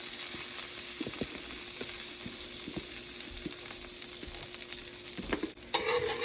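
Butter and all-purpose or self-rising flour cooking into a roux in a pan as a gravy base, with steady close sizzling and frying, spoon stirring and scraping clicks, and a louder clatter near the end.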